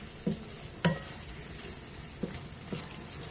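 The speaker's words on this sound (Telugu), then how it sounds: "ఇప్పుడు మష్రూమ్స్ వేసి కొంచెం సేపు కలుపుతాం." Mushrooms being stirred into curry masala in a pan while cooking a mushroom gravy curry, heard as four short, soft scraping and clacking stirs at uneven intervals over a faint, steady sizzle, with no talking.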